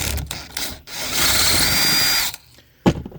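A power drill bores holes while installing an Extang Trifecta 2.0 soft folding tonneau cover on a 2026 GMC truck, a loud close whine lasting about a second and a half between short clicks and handling noises.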